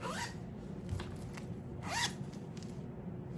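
A few quick zipper pulls, short rasping zips near the mic, separated by pauses over a quiet background.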